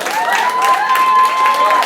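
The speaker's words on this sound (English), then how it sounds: "Big round of applause for everybody." A short burst of audience applause at a student union election hustings, loud and even, with cheering and a whistle-like tone over the clapping.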